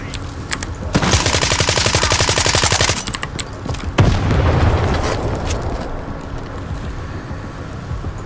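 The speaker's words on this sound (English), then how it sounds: "Oh, I'm getting shot at." Rapid automatic gunfire in the video game STALKER 2, a dense burst of fast shots lasting about two seconds, then a loud impact and rumbling noise, with scattered shots around it.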